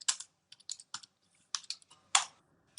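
Keystrokes on a computer keyboard as a file name is typed into Marg accounting software, a quick run of close, crisp clicks in short bursts with brief pauses and one louder final key press.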